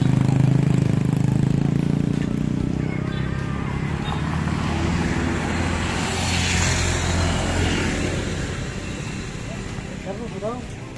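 Traffic on a road in Buguenes crowded with motorcycles, a steady rumble of passing engines, loudest at the start and fading somewhat, with a voice talking over it.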